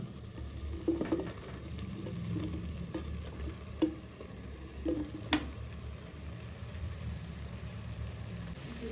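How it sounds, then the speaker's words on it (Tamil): Button mushrooms being stirred in a frying pan, a low soft sizzle broken by distinct spoon clicks and scrapes every second or so, close and fairly quiet with no speech. "லைட்டாக கிளறி விடுவோம்"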